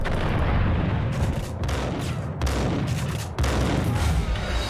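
Gunfire in the video game Max Payne, with dense, continuous bursts of shots and booming impacts sounding loud and close, briefly dipping between volleys.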